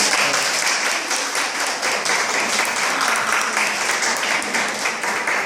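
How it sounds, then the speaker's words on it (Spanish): Sustained applause at a book presentation for the presenter, a loud, even roar of many hands clapping together without pause for the whole stretch. "darle un aplauso a la presentadora"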